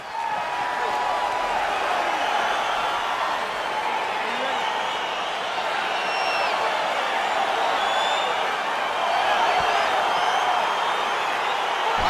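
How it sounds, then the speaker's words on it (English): Arena crowd at a UFC Fight Night heavyweight bout between Shavkat Rakhmonov and Francis Ngannou, roaring steadily as the fight begins, a dense wash of cheering and murmur that swells slightly toward the end under faint commentary. "Crowd getting excited as this fight gets underway"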